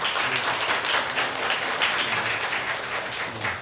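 A church congregation applauds, a dense, steady round of clapping from many hands lasting a few seconds at moderate volume.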